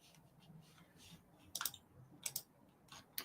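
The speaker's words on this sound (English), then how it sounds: "You hear all that clicking?" A handful of faint, close clicks in short clusters over a low background hum.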